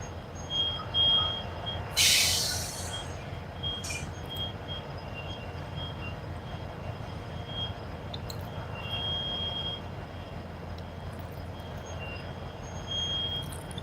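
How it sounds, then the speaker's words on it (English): A train rumbles by nearby as a steady, continuous low roar lasting the whole stretch, with a sharp hiss or squeal near the start and faint scattered clanks on top. "That's frustrating when that train comes there all day day."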